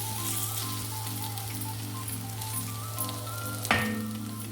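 Brinjal and onion fry in a pan with a soft, steady sizzle and crackle, heard close and fairly quiet under a constant low hum, with one brief sharp clatter near the end.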